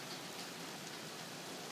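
Hail mixed with rain falling in a winter thunderstorm, a steady dense hiss of drops and pellets striking surfaces, loud and even throughout with no voices.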